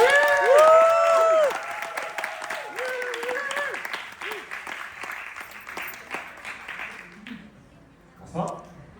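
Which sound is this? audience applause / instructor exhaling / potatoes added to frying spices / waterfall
audience applause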